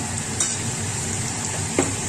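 Potato pieces fry in a pan of oil, a steady sizzle holding through with a couple of brief louder crackles, close and fairly even, no voices.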